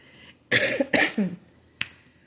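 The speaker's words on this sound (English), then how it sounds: "here we go with that cough that wants to come out" Two quick, harsh coughs close together, followed by a shorter bark of a cough and a sharp click, with quiet gaps between.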